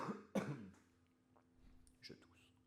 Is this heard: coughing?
yes